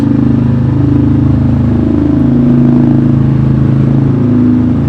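Motorcycle engine droning steadily while riding, a constant loud low hum with no breaks across the whole stretch.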